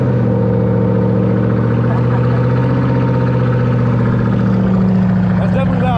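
A car with a muffler delete and longtube headers starts and settles into a loud, steady, rumbling idle that fills the whole stretch, with a bit of faint background talk.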